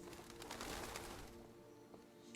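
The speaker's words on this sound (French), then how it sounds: "Pigeon." Pigeon cooing in the video game Detroit: Become Human, a soft, low bird call over a steady game background, with no talking.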